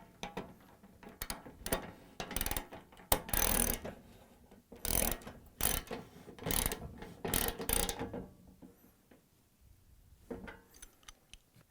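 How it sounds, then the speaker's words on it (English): A 13/16 socket wrench tightening a Venturi nut on a Bosch, Thermador or Gaggenau gas cooktop burner, heard as close, irregular bursts of ratcheting clicks separated by short pauses. "And now we're going to tighten them with a 13/16 socket wrench."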